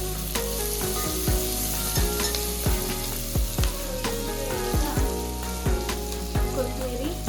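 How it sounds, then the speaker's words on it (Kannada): Onions frying in hot oil until golden brown for chicken chops, with a steady loud sizzle and a rapid series of scraping stirs and clinks from a spoon against the pan throughout. "ಗೋಲ್ಡನ್ ಬ್ರೌನ್ ಬರಬೇಕು, ಈರುಳ್ಳಿ ಅಲ್ಲಿವರೆಗೂ ಹುರ್ಕೊಳ್ಳೋಣ"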